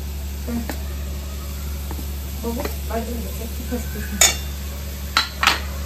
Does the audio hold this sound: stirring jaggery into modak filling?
yes